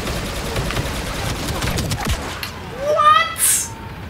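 Blaster fire from Star Wars Battlefront II crackles in a fast run of shots, then gives way to a few whooshing and chirping game effects, with a voice talking over part of it.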